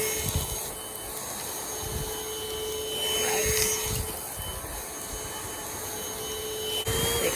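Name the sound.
Airbot Supersonics cordless vacuum cleaner vacuuming a carpet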